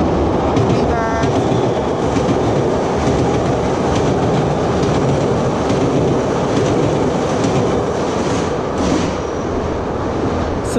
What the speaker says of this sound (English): I couldn't talk because the train was extremely loud